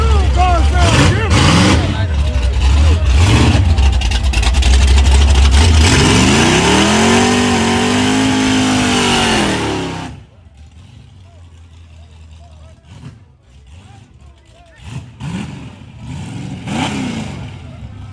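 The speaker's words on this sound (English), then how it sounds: "Hey, that old car sound different." An old race car engine at a grudge race event, loud throaty revving with repeated surges climbing in pitch, then cutting off abruptly into quieter crowd noise and distant engines.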